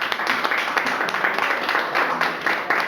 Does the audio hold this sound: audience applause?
yes